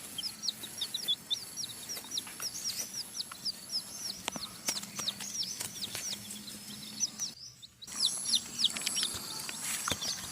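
Many nine-day-old Sumatran red junglefowl chicks cheep in rapid, high-pitched peeps, close and continuous, with occasional soft clucking and light rustling.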